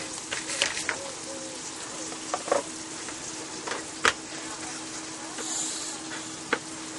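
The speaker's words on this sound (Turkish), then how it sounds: "Tavuğumuzu tavaya atıyoruz." Chicken fries in a pan with a steady close sizzle, broken by occasional sharp clinks and stirring sounds, while a voice talks faintly in the background.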